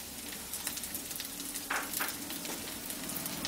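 Green peas and green chillies frying in a pan for vegetable masala noodles, giving a steady close sizzle with a short, louder crackling burst partway through and no talking.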